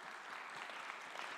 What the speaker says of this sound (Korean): 서로 위해서 우리 수고와 격려의 박수를 부탁드리겠습니다